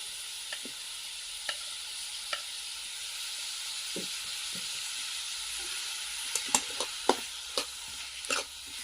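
Garlic and green chillies sizzling in a pan on a wood-fired stove, a steady soft frying hiss punctuated by scattered light clicks and stirring taps.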